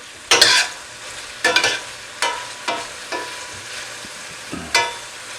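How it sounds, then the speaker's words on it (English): Beef tips browning in a hot pan, with bursts of loud sizzling each time the meat is stirred, about six separate surges that fade back to a steady low crackle between them. "Just give this a little bit of cook, a bit of browning."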